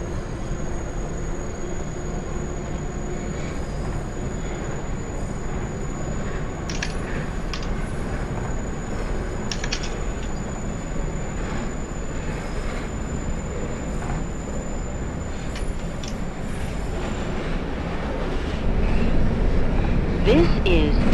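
An R160 subway train on the D line toward Stillwell Avenue in the OpenBVE simulator rumbles steadily with a constant high whine, brief clicks and squeaks over the rails, and swells louder near the end; no one talks.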